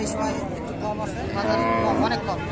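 Cows, including Sahiwal cows with calves, low at the Raniganj cattle market in Dinajpur, their drawn-out moos mixing with nearby chatter and a crowd's steady murmur.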